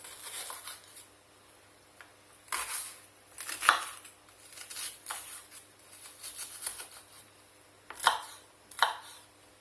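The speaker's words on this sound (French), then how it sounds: "je fais des petits cubes d'oignons, voilà, grossièrement" A knife chops onions into small, rough cubes for a chicken and vegetable stew, giving sharp, irregular blade strikes against a cutting board in short bursts with pauses between, fairly close and moderately loud.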